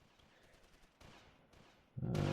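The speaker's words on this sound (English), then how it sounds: "the mortars are still kicking off" Mortar fire in the Close Combat war game: a quiet battlefield rumble with faint distant pops, then one loud, heavy blast that lingers to the end.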